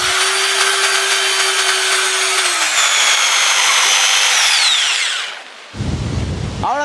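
A power tool cuts a circle out of a wooden piece for a homemade flour mill, giving a loud, continuous whining buzz with a shifting pitch. It cuts off abruptly, followed by a brief rough rattling.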